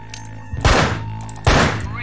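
Gunfire in the video game Manhunt: two loud, close blasts about a second apart, each with a ringing decay, over steady game background.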